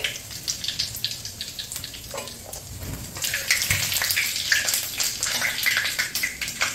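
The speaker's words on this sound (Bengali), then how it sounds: "এবার তেলেতে আমি ফোড়নটা দিয়ে দিচ্ছি।" Bay leaf, whole dried red chillies and cumin seeds sizzle in hot mustard oil for a Bengali meat dish, a steady close crackle and hiss that grows denser and louder midway, with no talk.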